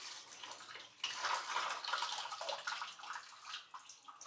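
Water splashes and sloshes steadily as raw mutton pieces are rinsed by hand in a vessel of water in a home kitchen, a continuous close wet churning that swells louder after the first second, with no voices.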